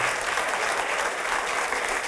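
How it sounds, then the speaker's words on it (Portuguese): A church congregation claps for the Lord in steady, sustained applause, a dense roomful of hands heard alone without pause. "Vamos aplaudir ao Senhor"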